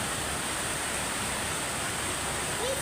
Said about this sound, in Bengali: মসজিদের যত মানে ছাদের পানিগুলি সব পড়তেছে এই বাড়ির ছাদের উপরে, অনেক জোরে বৃষ্টি নামছে।